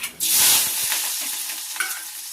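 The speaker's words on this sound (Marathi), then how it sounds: "तेल तापलंय तर कांदा टाकते" Chopped onion hits hot oil in a pan with a loud, close sizzle that bursts up at once and settles into a steady frying hiss, with a light stir, and no talk.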